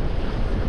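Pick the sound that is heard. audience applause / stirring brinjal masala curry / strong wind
strong wind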